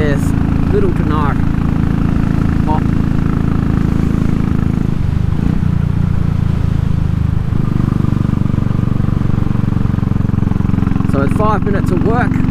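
A Royal Enfield Classic 500 rumbles loudly and steadily as it decelerates, the low engine drone dipping briefly midway, with someone speaking faintly over it at the start and end.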